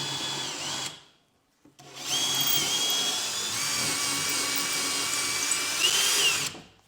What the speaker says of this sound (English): And what you want to do is just drill this as straight as you can.